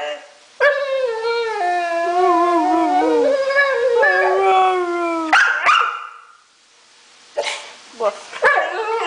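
A dog close by lets out long, wavering howl-like vocalizations, pauses, then gives a few short, sharp barks.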